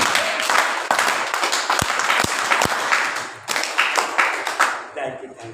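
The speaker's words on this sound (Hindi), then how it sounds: "ज्यादा खुशी होती है ना 3 बार ताली बजाना" Clapping from an audience at a Buddhist-Ambedkarite sermon in Delhi: dense applause with three distinct sharp synchronized claps standing out, then more scattered clapping tapering off near the end.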